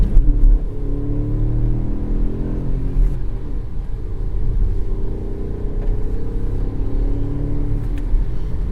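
Hyundai Bayon 48V mild hybrid car accelerating on the road, a steady loud low engine rumble with rising drone from inside the cabin, continuous throughout.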